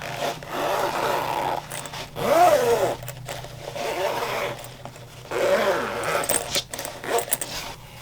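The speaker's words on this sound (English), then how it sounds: "Go ahead and add your zipper pulls, one on each side like this." Zipper pulls are being fitted onto a backpack's zippers, giving bursts of close rubbing, clicking and scraping handling noise in uneven clusters separated by brief pauses.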